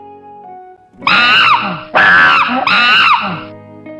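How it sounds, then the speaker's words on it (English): A chimpanzee screams in three loud, shrill bursts close by, each rising and falling with a harsh edge and separated by brief gaps. "Chimpanzee."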